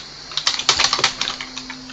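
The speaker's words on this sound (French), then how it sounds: "Je suis en train de défoncer mon clavier." Someone pounds hard on a computer keyboard during a game session, producing a quick flurry of loud, close key clacks in an uneven burst over a low steady hum.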